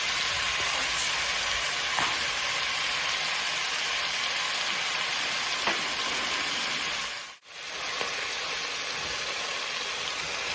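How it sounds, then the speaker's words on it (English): Marinated short ribs sear in a hot pan with a loud, continuous sizzle. Faint clicks and pops sit in the hiss, which drops out briefly near the end and then returns. "You're honestly just searing these"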